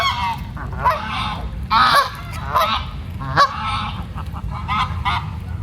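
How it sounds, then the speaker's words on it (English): Canada and greylag geese honk outdoors at Cleethorpes, a busy flock calling in overlapping bursts, loud and close, with several sharp honks standing out over the steady clamour. "So many geese here also."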